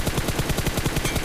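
Rapid automatic gunfire in the mobile shooter BGMI, a fast, even burst of about a dozen shots, loud and close with no pauses.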